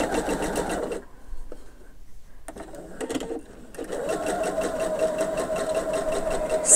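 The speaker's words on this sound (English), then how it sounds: "sew that seam" A sewing machine runs a quarter-inch seam on a modern half-circle and triangle quilt. Its steady, close motor hum cuts out for a few seconds of near silence, then starts again and runs to the end.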